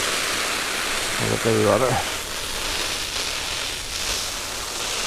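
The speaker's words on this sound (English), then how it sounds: "The rain seems to be coming off quite nicely." Rain water runs off a Jack Wolfskin Gossamer one-man tent with a steady, close, broadband hiss, and a short spoken phrase cuts in near the start.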